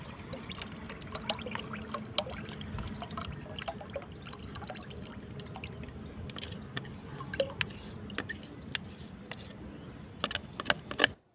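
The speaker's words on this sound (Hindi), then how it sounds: "लेकिन मैं इसमें और भी पानी मिलाऊंगी" Water pours and trickles into mustard cake liquid fertilizer in a steady, wet splashing with small drips and squishy bursts, close and fairly quiet, with no talking.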